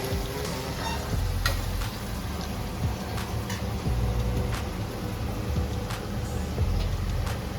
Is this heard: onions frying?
yes